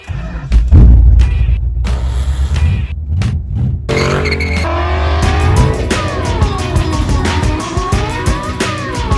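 Engines of a 1986 Omni GLHS and a 1991 Spirit RT at a drag race: a loud early boom, then rising and falling revs with gear changes and tire noise, close and continuous.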